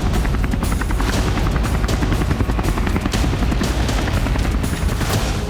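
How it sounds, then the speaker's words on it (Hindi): A US Viper military helicopter on patrol over the Persian Gulf, its rotor chop a dense, loud, continuous pulsing thrum that fills the whole stretch without pause or voices. "सत्ताईस सितंबर को अमेरिका का वाइपर हेलीकॉप्टर अरब की खाड़ी में गश्त लगा रहा था।"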